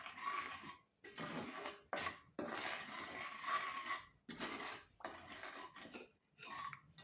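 Ingredients for a chicken pickle are mixed together in a bowl, making close, soft rubbing and scraping bursts of a second or two with brief pauses between them, and no voices.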